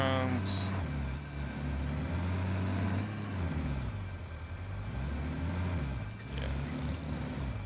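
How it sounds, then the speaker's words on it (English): A big truck drives in the factory-building video game Satisfactory. A loud, low engine drone rises and falls in pitch as it shifts and accelerates, with a short hissing burst near the start. "you get to drive like a big truck around"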